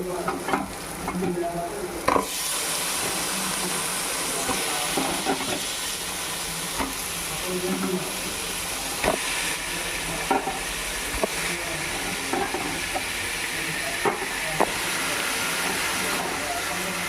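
Chicken pieces stirred in a pan of hot oil with turmeric and garam masala, a continuous loud sizzle with scraping stirs and a sharp surge of frying a couple of seconds in, holding steady throughout.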